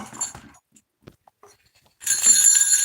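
After a brief sound and a quiet pause, a grandfather clock ornament plays Jingle Bells, a bright chiming bell melody close and loud, ringing steadily like a small mechanical jingle.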